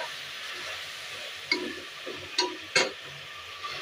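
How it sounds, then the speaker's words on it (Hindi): Chicken frying in a pan with browned onions over a high flame, a steady low sizzle with a few sharp clinks and scrapes of stirring. "उसमें मैंने चिकन डाल के अभी इसको 3-4 मिनट से हाई फ्लेम पे इसे ब्राउन कर देना है"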